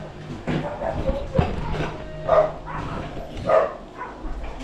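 A dog barks several times at irregular intervals beside a house during an outdoor fish grill, short sharp yelps over background noise and quiet voices.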